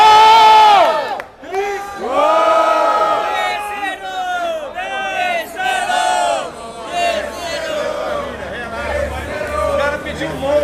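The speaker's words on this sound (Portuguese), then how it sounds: "Quem acha que foi o Cris, vou pra cima e barulho." A rap battle crowd cheers and shouts loudly and continuously, roaring and whooping with a host's voice calling out over the noise.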